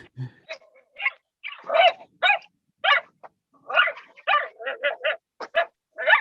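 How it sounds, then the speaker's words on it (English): A dog shut inside a car barks, yips and whimpers close by in a quick, irregular series of sharp bursts, with no talk over it. "It's just we're walking by a car that has a dog in it."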